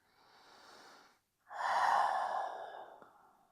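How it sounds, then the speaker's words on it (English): A deep breath during a slow aerial yin yoga session: a soft inhale, a brief pause, then a longer, louder exhale through the nose and mouth, close and unaccompanied. "One more deep breath."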